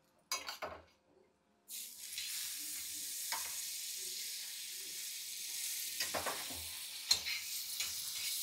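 Bread toasting in butter in a frying pan gives a steady, close sizzle that starts after a couple of soft knocks and runs continuously, with occasional utensil taps and scrapes.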